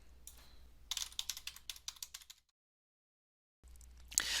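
Quick bursts of keystrokes on a computer keyboard as a username and password are entered, close and crisp clicks in a short rhythmic run, then a silent pause and a few more taps.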